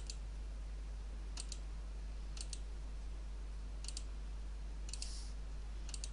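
A computer mouse clicks while a bead embroidery chart of an icon is worked out on screen: about five faint, crisp clicks spaced a second or so apart over a low steady room hum, with no talking.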